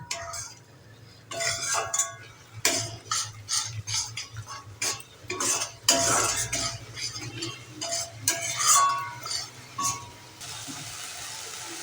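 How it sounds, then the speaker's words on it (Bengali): Spice paste for a tuna fish curry being stir-fried with salt, turmeric and ground spices, a spoon scraping and clinking against the pan in a steady run of close, busy strokes over a low background hum. "এবারে মশলাটা আরেকটু ভালো করে কষিয়ে নিতে হবে"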